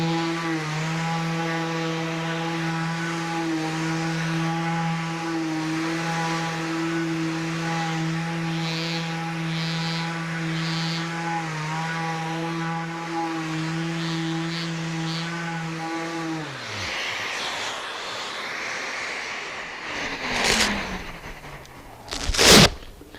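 A power sander hums steadily as it works over a raised wood panel with 120 grit, running for about seventeen seconds before it winds down, followed by a few louder scraping and handling noises.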